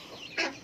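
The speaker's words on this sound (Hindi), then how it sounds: "हमारे मुर्गे का असील मुर्गा।" An Aseel rooster with hens, giving a single short, loud cluck that stands out above a quiet farmyard background.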